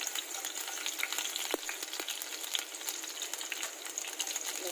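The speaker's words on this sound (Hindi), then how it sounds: "अब इसमें हम थोड़ा सा लहसुन डाल देंगे" Garlic fries in hot oil for Veg Manchurian, giving a steady close hiss and crackle with a couple of soft stirring clicks and no speech.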